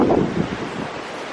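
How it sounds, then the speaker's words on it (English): Ocean waves and surf roar in a broad, steady wash with strong wind buffeting the microphone, loud and close, with no voices. "Yes, that's an ocean, okay."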